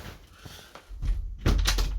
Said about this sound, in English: Hang on, I'm going to shut that door.